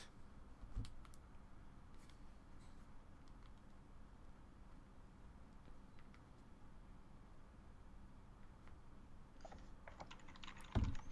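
Fast, furious typing on a computer keyboard during a tournament game, faint clicks under a steady background hiss, with a brief louder clatter near the end.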